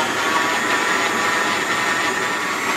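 A stand mixer's beater creams butter for cookie dough, giving a steady, loud whirring motor hum with a bright mechanical whine that holds evenly throughout, with no talking.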